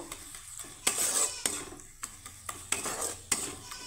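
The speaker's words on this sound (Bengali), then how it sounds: "মশলাটাকে আমি সুন্দর করে কষিয়ে নেব।" Spice paste with salt and turmeric being sautéed in a pan, a spoon scraping and clinking against the metal in a series of sharp strokes over a soft background sizzle, close and fairly loud, with no talking.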